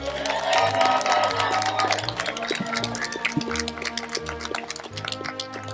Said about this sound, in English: joining me in applauding the Klamath Community College class of 2022